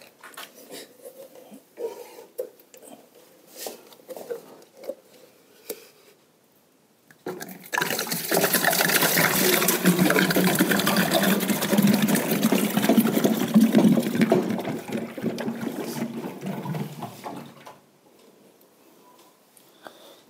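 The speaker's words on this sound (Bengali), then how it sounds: "তো জলটা এর মধ্যে ভরে দেবো।" Drinking water runs into a bottle from a tap or dispenser in a guest-house room, a loud continuous rushing stream lasting about ten seconds after some quiet handling noises, then cutting off abruptly.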